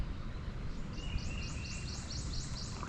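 A bird chirps beside a river in a quick repeated series of bright, high notes over a low background rumble, fairly distant.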